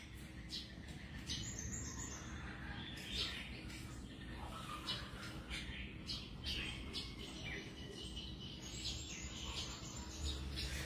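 Caged songbirds chirp and tweet outdoors in a steady scatter of small calls, fairly faint against a broad background hiss and low rumble, with no clear voices.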